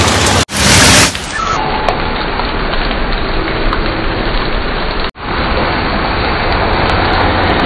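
Rain starts to fall in Daman, a loud, steady wash of drops hitting surfaces that runs unbroken after a brief harsh burst at the start.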